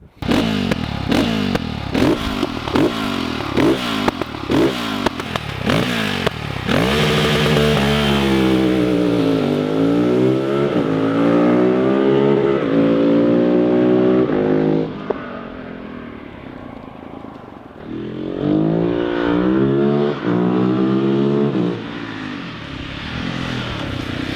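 KTM 690 SMC-R supermoto motorcycle with a DVR full exhaust system, first blipped in a string of sharp revs, then held at a steady loud idle-to-midrange drone that dips briefly and rises again, close by with no talk.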